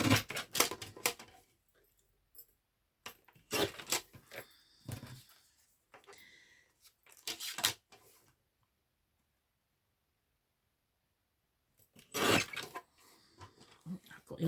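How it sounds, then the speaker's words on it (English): Paper being snipped with scissors for a craft project, in short bursts of crisp cutting clicks separated by quiet pauses, close and fairly soft. "Right, so I'm just going to quickly cut these out."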